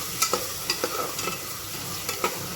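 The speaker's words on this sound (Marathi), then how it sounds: "आता आपण चवळी टाकूया बघा अशा पद्धतीने" Cowpea greens are stir-fried in a pan, with a soft sizzle under repeated light scraping and tapping strokes of a spatula, about a dozen close, quick knocks.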